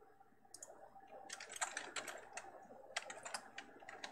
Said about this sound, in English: you can listen to the patterns of my typing to infer what my password must be